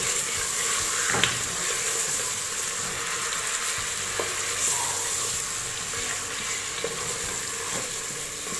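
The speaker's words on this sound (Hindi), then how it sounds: "इसको थोड़ा सा भून लेंगे हम।" Mutton sizzles loudly and steadily in a pan with browned garlic, a dense frying hiss with occasional stirring knocks, close up and without talk.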